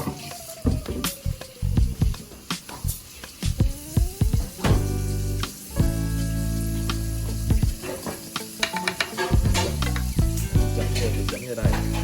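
Garlic frying in a hot pan at a Thanksgiving meal, a steady close sizzle under clinks and scrapes of utensils, with bursts of voices talking over it.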